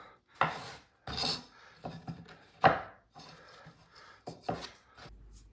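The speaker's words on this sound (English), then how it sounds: "that's my take on sharpening a cabinet scraper and sharpening up a big old hardware scraper" A cabinet scraper is sharpened in a series of separate rasping, scraping strokes of steel, roughly one or two per second with brief pauses, close and fairly quiet.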